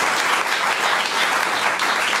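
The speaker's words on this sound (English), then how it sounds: "can I have a warm applause for the panel, for Sandra Flippe, for Branko Milosevic and" An audience applauds a panel at a forum on the future of the Eurozone, a dense wash of clapping hands that holds at an even level for a couple of seconds.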